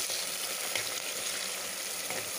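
Two medium onions, chopped, browning in hot oil for Lucknow-style khichda, giving a steady, close sizzle of frying with faint stirring.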